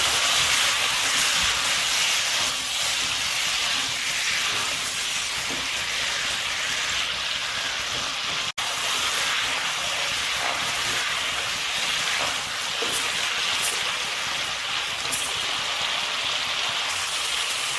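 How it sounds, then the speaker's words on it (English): Potatoes frying in a covered pot for mutton yakhni biryani, a loud, continuous sizzling hiss that holds steady throughout with no talking. "So as you can see, potatoes are fried."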